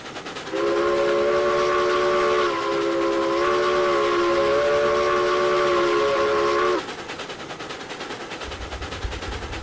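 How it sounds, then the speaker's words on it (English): Steam locomotive whistle in the Railroads Online video game: a loud, steady multi-tone chord held for about six seconds with a brief dip midway, then cutting off to leave the low rumble of the running train. "Just blowing the whistle before we hit this curve here"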